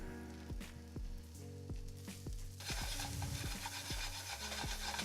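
Ginger and garlic hit a hot pan over high heat with onions, giving a steady loud sizzle that brightens partway through, while a utensil scrapes and stirs with repeated rasping strokes.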